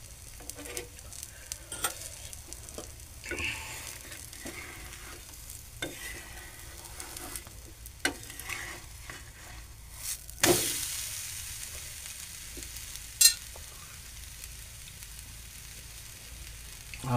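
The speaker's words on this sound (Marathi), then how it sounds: "त्याच्या भोवताली मी थोडंसं तेल टाकणार आहे, जेणेकरून आपला घावन सहज सुटेल." Besan ghavan, a gram-flour pancake, frying in a little oil drizzled around its edges, giving a soft steady sizzle broken by occasional scraping and stirring clatter, with no voices.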